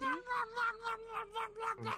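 A human voice imitating a cat's yowling noise when it gets scratched, a rising and falling series of nasal meow-like wails repeated about seven times in close succession.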